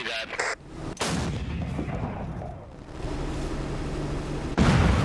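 Artillery strikes in the video game Afghanistan '11 land as heavy booms, one around the one-second mark and another near the end, each with a rumbling tail over a low battlefield din.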